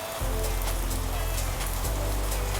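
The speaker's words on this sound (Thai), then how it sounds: "ดูนะครับนี่ให้ดูฝนตก" Steady rain falls on a surface, a dense continuous hiss with a low rumbling undertone, close and even throughout with no talk.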